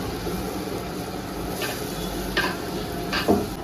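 Masala with ginger garlic paste sizzling and frying in a pan over low heat, a steady close hiss with a few stirring scrapes mixed in.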